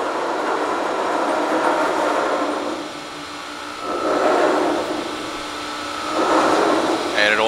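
Hydraulic backgauge on a used Accurshear 1/4-inch by 20-foot shear, model 625020, travelling back with a continuous mechanical whir that swells and eases in waves.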